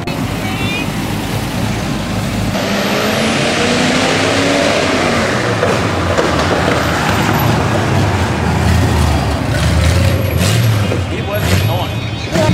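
A Chevrolet Corvette C5 revs and roars past at a car cruise in Frostburg in 2017, loud and sustained, with crowd chatter and nearby voices over the engine.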